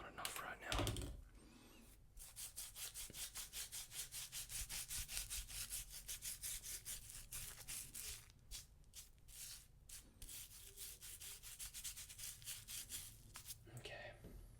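A straight razor scrapes across a lathered chin in close, steady rasping strokes that run almost without pause, with a brief soft voice near the start and end.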